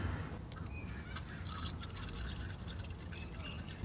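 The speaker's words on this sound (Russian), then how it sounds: "Сливаем все до последней капли." Gear oil drains from the manual gearbox of a Daewoo Matiz 0.8–1.0 L into a container, a faint steady trickle and dripping against quiet background hiss.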